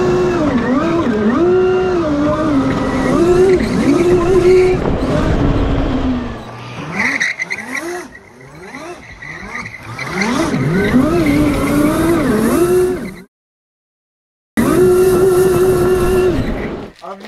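A 110V electric go kart accelerating hard, its high motor whine rising and falling in repeated sweeps with tire squeal on turns, loud and close, cut by a brief silent gap.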